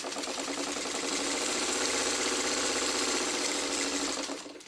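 A sewing machine stitches quilt block pieces together into stripes for a Chutes and Ladders quilt, a steady rapid mechanical whir running close and unbroken for several seconds before winding down at the end.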